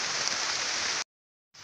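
Rushing floodwater from morning rain flows toward the Orós reservoir, a loud, steady broadband roar close by that cuts out briefly for half a second before resuming.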